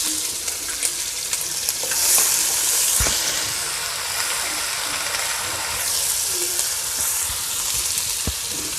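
Ginger garlic paste sizzles in hot ghee in a karahi for Shinwari mutton karahi, a steady close crackle and hiss with occasional stirring scrapes throughout, no talking.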